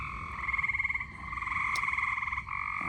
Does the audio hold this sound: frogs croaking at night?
yes